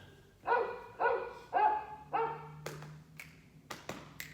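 A dog barks four times in a steady, evenly spaced series, loud and close, followed by a few soft taps and thumps.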